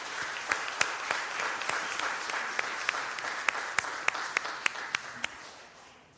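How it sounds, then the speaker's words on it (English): Audience applause at a city council meeting, a dense sustained wash of clapping from many hands with a few sharper individual claps standing out, steady throughout and fading slightly at the end. "You deserve every round of applause you get."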